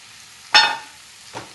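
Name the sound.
spinach added to tomatoes frying in a pan, stirred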